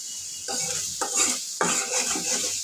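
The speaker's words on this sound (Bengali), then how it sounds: "আর একটু রসুন বাটা দিলাম। এটা আমি একটু ভাজবো।" Garlic paste frying in a pan, a steady bright sizzle throughout with bursts of stirring and scraping at intervals, close and fairly loud.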